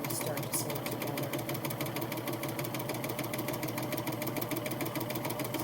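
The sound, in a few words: sewing machine sewing a strap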